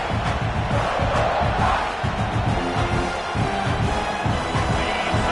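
A packed stadium crowd roars without pause at a college football game with Alabama, a loud, sustained wash of yelling and cheering that swells slightly and never drops out.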